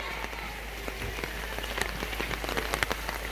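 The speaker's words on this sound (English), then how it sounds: "Very light rain." Light rain patters steadily on a surface nearby, with scattered individual drops ticking through a soft continuous hiss.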